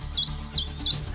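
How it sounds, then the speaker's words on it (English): Songbirds chirping in three short, bright, evenly spaced calls, close and clear over a low background hum. "They use a variety of songs and calls to attract mates, defend territories, and communicate with their flock."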